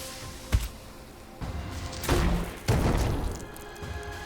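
Mortar trap firing in the dungeon game Legend of Keepers: a few muffled thuds and booming impacts, one short hit followed by two heavier rumbling blasts, moderately loud with no talking.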